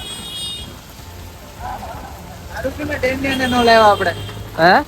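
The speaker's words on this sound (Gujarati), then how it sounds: "કેવો વરસાદ ચાલુ થઈ ગયો છે" Steady hiss of heavy rain falling on surfaces at a temple in Surat, with a person speaking over it toward the end.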